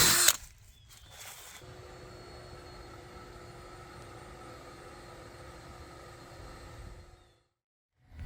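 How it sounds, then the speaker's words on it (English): A power drill bores holes into a school bus with a steady mid-loud whine for several seconds, then stops abruptly; sharp clatter and handling noises come before it. "it is a beautiful day for drilling more holes in the bus"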